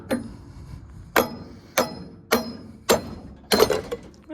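A hammer strikes a 2004 Subaru Forester front strut repeatedly to collapse it, six sharp metallic whacks at a steady roughly half-second-plus rhythm, loud and close with ringing decay.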